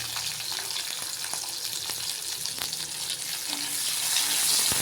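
Tomato fries in hot oil with nigella seeds, giving a dense, steady sizzle with occasional stirring taps. The sizzle grows a little louder near the end.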